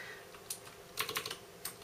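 Computer keyboard being typed on while navigating a Gigabyte F2A85XN-WiFi motherboard's UEFI setup: a handful of quick, light key clicks in short clusters, close and faint against a quiet background.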